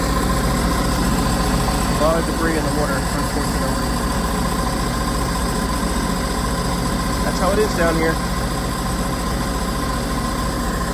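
A 2014 Sea-Doo GTX 215 personal watercraft idles steadily on the water, its engine holding a constant, even hum under someone talking nearby, with a couple of brief squeaks rising over the drone.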